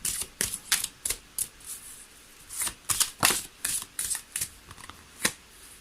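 Tarot cards being shuffled and laid down, a run of crisp papery snaps and flicks in uneven clusters, close and fairly quiet with no talk.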